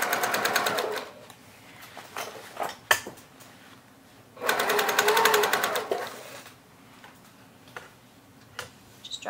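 A sewing machine runs in two fast rattling bursts of stitching a tote bag seam, separated by quieter handling clicks and knocks.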